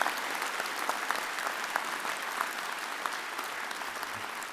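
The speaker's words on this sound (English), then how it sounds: "Another big round of applause for all of our graduates today." A large convocation audience applauds the graduating class at a university fall ceremony, a broad, continuous roar of clapping with a few sharper individual claps standing out, steady and full for the whole stretch.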